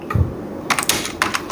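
Keys on a computer keyboard clatter in a short burst of quick, close taps, an irregular run of clicks with a tiny pause between groups.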